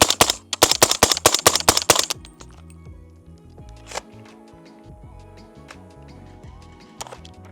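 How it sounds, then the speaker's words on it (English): Ten subsonic 300 Blackout rounds fired rapidly into a berm from 15 yards, a sharp burst of closely spaced loud cracks followed by quieter tail noises and a couple of faint later clicks. "if we can get 10 rounds very fast down into the berm"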